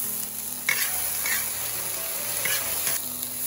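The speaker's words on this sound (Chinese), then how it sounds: "倒入干辣椒和大蒜，然后放入豆腐，翻炒几下" Tofu tossed with dried chilies and garlic in a hot wok in a rural kitchen, a steady loud sizzle with scraping stirs of the spatula, with no voices.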